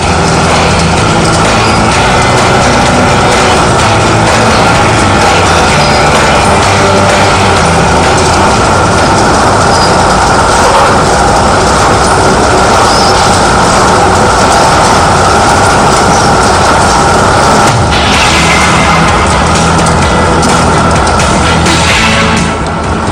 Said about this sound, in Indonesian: lembaran adonan yang telah padat dipotong atau diiris sesuai dengan ukuran yang telah diatur dan ditentukan pada mesin pencetak